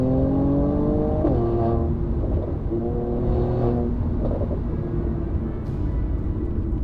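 A Mercedes-AMG C43 (W206, 408 hp) engine revs loudly and steadily, its pitch climbing and dropping at gear shifts, with no talk over it.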